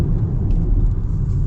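A Kia EV4 GT-Line electric car accelerates at full power, giving a steady low road rumble and motor whir from inside the cabin, unbroken for the short stretch.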